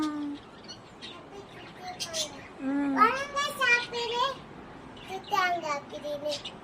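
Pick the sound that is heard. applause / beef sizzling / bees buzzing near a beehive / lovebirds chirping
lovebirds chirping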